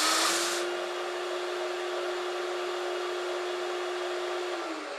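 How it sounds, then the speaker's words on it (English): Makita 18V brushless vacuum dust extractor running steadily, a loud continuous motor whine and airy rush with a brief louder burst at the start, then an even drone alone that tapers slightly at the end. "will automatically turn the vacuum on and off when using this machine for dust extraction."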